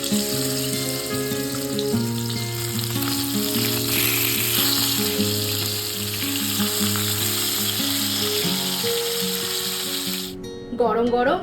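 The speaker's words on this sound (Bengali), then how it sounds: "মাছটাকে নুন হলুদ মাখিয়ে নর্মাল জাস্ট ভেজে নেবো" Fish coated in salt and turmeric fries in hot oil with a loud, steady sizzle throughout, under background music, then a brief clatter near the end.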